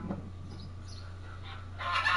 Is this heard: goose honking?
yes